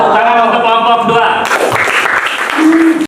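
Applause breaks out for a student group in a classroom presentation session, a burst of clapping rising after a brief spoken lead-in and continuing steadily for a few seconds.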